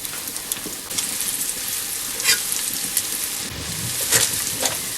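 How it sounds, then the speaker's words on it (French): Oysters from Oléron sautéing in a frying pan, a steady close sizzle and crackle that runs throughout, with a few brief stirring scrapes and hiss bursts rising over it. "Il faut d'abord faire revenir ces huîtres à la poêle."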